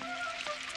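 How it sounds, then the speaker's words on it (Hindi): A brief burst of dense, steady rain pattering on a surface, loud and unbroken, with a faint tonal hum underneath. "अरे ये तो पहले से भी ज्यादा बारिश हो रही है।"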